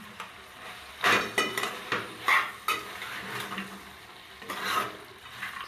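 Ridge gourd and chana dal curry is stirred in a pot, a spoon scraping and clinking against the metal in uneven strokes over a faint sizzle, close by with no voices.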